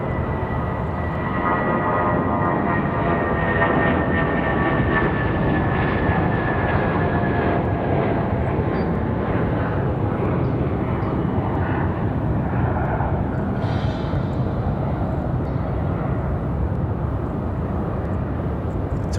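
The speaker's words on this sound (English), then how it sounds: "Good look at our A319 departure" Airbus A319 jet departing Raleigh-Durham International Airport, a loud continuous engine roar with rumbling broadband noise that holds steady for nearly twenty seconds, with no voices.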